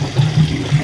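Gas from a gas can poured onto a car in the video game Fortnite, heard as a close gurgling liquid splash with a low watery rumble, no voices.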